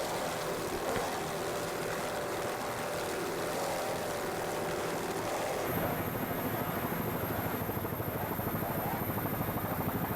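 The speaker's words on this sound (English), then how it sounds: "With this boat doing 84 miles per hour and really making a lot of noise, as you can hear." An offshore racing powerboat roars past at about 84 mph, a loud sustained engine drone that shifts in pitch midway, with wind and water noise and no clear talk.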